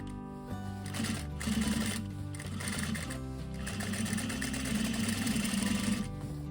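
A sewing machine runs steadily at close range, stitching the deck fabric of a tailored bed skirt with a continuous mechanical whir that briefly pauses and restarts.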